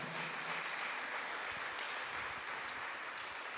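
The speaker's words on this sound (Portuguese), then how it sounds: "exalte ao Senhor com as suas melhores palmas." A church congregation applauds in praise during a sermon, a steady, distant wash of clapping that continues evenly without speech.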